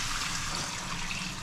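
Water poured into a hot cooking pan while sautéing with pepper, a steady rushing, splashing hiss that runs the full moment without pause, close and fairly loud.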